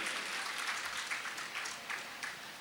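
An audience of mostly girls claps during a Jain sermon in Rajasthan, a faint, continuous patter of many hands with small irregular bursts, heard from a distance.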